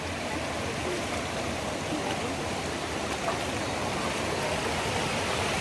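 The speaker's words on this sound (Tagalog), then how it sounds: "Andito kami sa" A river stream near Hulugan Falls in Luisiana, Laguna, with a steady, close rush of flowing water that holds unbroken throughout, with no talk.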